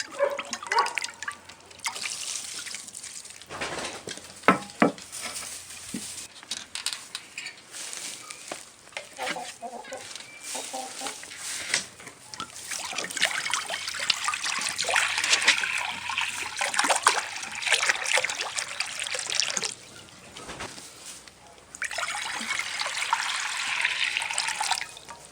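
Dirty water from a rabbit water dish dumped and trickling out in a meat rabbit colony, with uneven splashes, dribbles and sloshing bursts near the listener, plus faint clatter and a distant rooster.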